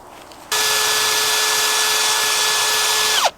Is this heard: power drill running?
yes